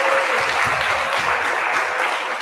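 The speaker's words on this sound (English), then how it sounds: "Let's give all the performers another round of applause." An audience gives a round of applause for music performers at a recital, continuous dense clapping at a steady, fairly loud level throughout.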